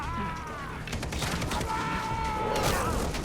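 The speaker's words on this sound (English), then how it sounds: "this is the best explosive arrow ever" Explosive arrow blasts and crackling bursts in Far Cry 3, with whistling tones weaving through, moderately loud and continuous.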